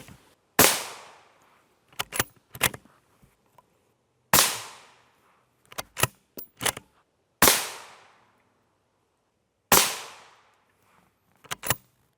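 Four loud single rifle shots of M193 rounds fired at a Hercules Lite RF2 armor plate, each a sharp crack with a decaying echo, spaced a few seconds apart, with clicks and clatter between them and no talking.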